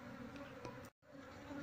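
Apis cerana honey bee colony buzzing steadily near a hive box, a dense continuous drone with a brief total dropout just before the one-second mark, then resuming unchanged.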